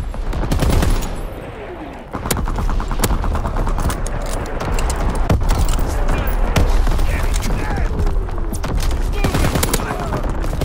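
Dense, loud gunfire and artillery barrages fill a hectic online shooter match on the Shipment map, with rapid automatic bursts and heavy impacts layered over each other almost without pause.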